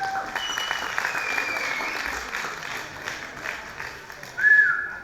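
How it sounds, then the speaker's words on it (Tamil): A crowd applauds a dance at a Pongal festival with a dense, steady clatter of clapping. A sharp whistle and a burst of louder cheering come near the end. "இந்த கைத்தட்டல் காணும் நினைக்கிறீங்களா?"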